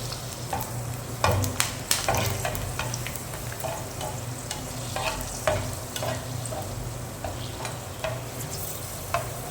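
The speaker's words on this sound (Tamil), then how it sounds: "ஸோ நம்ம இப்போ ஃப்ரை பண்ண போகிறோம் வத்தல்" Dried brinjal vathal frying in hot oil, a steady dense sizzle with scattered crackles and pops and occasional stirring clinks, close and continuous with no talking.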